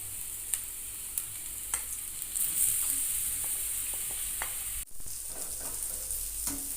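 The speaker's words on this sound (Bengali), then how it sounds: "এইবার আমি সয়াবিনগুলোকে এক এক করে দিয়ে দিচ্ছি প্যানের মধ্যে" Soybean balls drop into hot oil in a pan over a low flame, producing a quiet, even sizzle with a few sharp taps and a brief clunk midway, close and without talk.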